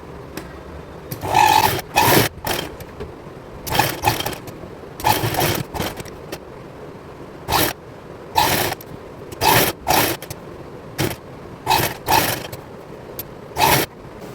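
A sewing machine stitches a lehenga made from an old saree, running in short loud bursts of rapid whirring that stop and start about a dozen times, with quiet pauses between each run.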